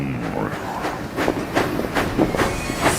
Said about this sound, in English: Thomas and Percy puffed in.